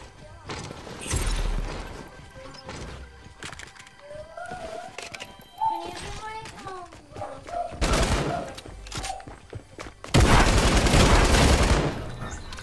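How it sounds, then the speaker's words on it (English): Bursts of light machine gun fire in a Fortnite match, loud rapid volleys near the start, middle and end, with game effects and voices talking between them. "I got a light machine gun."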